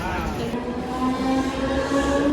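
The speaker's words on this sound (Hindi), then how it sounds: "प्लॅटफॉर्म क्रमांक 4 पर आई हुई लोकल 2 बजकर जाने वाली 12 डिपो की धीमी लोकल है।" A Mumbai Harbour line slow local train stands at a station platform, giving a steady rumbling hum with a sustained mechanical tone throughout.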